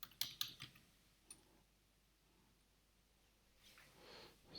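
Quick keystrokes on a computer keyboard, a short burst of close clicks at the start and then a few scattered taps, faint in a quiet room with no talking.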